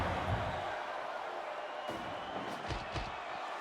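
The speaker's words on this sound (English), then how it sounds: "The crowd is roaring for Pierce here tonight." A wrestling event crowd roars in a steady, dense wall of noise that fills the whole stretch, with a few sharp thuds rising out of it near the end.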